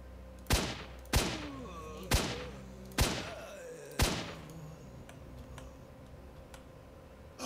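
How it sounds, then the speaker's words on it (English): Five separate gunshots ring out in STALKER: Shadow of Chernobyl, spaced about a second apart, each a sharp crack with a short fading tail, followed by quieter ambience. "Shooting me up in the guts."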